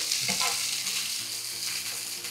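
Costco yakisoba noodles with celery sizzle loudly in a hot pan while being stirred, a steady close frying hiss with soft scraping as the food is moved around.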